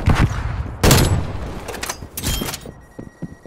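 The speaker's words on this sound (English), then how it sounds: "Using flashbang." A flashbang grenade and gunfire in a Nuketown match of a shooter game: sharp bursts of shots and a loud bang in quick succession, close and punchy, trailing into scattered quieter shots.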